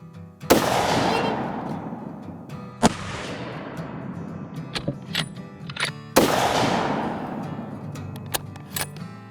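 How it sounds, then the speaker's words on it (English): Three loud rifle shots ring out outdoors during sighting-in at a range, each a sharp crack with a long rolling echo, spaced a few seconds apart with quieter pops between. "We're going to take 3 more shots, see how well those adjustments made out."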